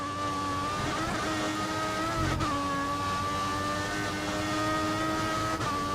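Race car engine in the F1 2014 racing game held at full revs, a steady loud high-pitched drone with sustained harmonic whine and no gaps.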